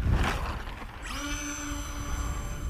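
A Bush Mule RC plane's electric motor throttles up for an auto takeoff launch, a steady high-pitched whine rising in pitch and holding after a brief rushing sound at the start.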